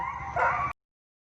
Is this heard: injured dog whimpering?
yes